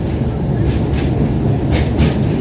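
A train runs steadily on its rails through a tunnel at the National Rail Museum in Delhi, with a continuous loud rumble, a few faint clicks and no talk.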